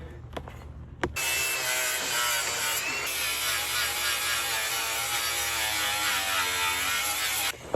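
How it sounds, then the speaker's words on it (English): An angle grinder cuts and grinds metal on a Toyota 4Runner, opening with a couple of short clicks and then running as one continuous, loud, high whine for about six seconds before it stops. "Grinder again."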